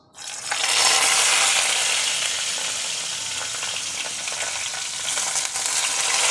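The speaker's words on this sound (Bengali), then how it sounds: "বেগুনটা ভাজার জন্য আমি কড়াইতে 4-5 চামচ তেল দিয়েছি। এখন আমি এক এক করে বেগুনগুলো ছেড়ে দেবো।" Brinjal pieces drop into hot oil in a wok and start frying with a sudden loud hiss, then a dense, steady sizzle that continues close and strong to the end.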